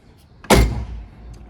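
A single solid slam as the rear door of a 1982 VAZ 2102 car shuts, a close, heavy thud with a short fading rattle afterward.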